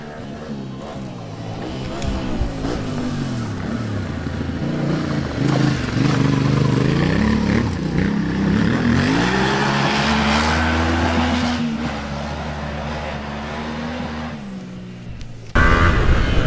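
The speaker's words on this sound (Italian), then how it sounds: "Sentite poi il motore 700, il CP2, non sottovalutatelo perché è un motore che spinge veramente tanto" A Yamaha Tenere 700 with its CP2 twin engine runs under load on an off-road ride, a loud, close, steady drone that rises and falls in pitch before a brief cut near the end.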